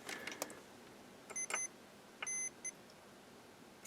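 A multimeter sounds quiet, high continuity-test beeps on the board of a Harman Kardon hk350i stereo receiver: two short tones, a pause, then a longer tone and a brief final blip, preceded by faint clicks of probes.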